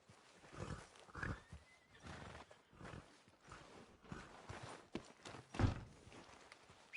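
A horse whinnies a few times amid scattered thumps and hoofbeat-like clops, with a game-like mix of effects around it, in the video game Red Dead Redemption 2.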